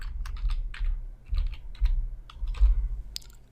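Keys clack on a computer keyboard as a password is typed, an irregular run of close, crisp taps with short pauses between bursts.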